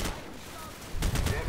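Machine gun fire in Call of Duty 4: Modern Warfare, a quick burst of several rapid cracking shots near the end after a quieter stretch of background battle noise.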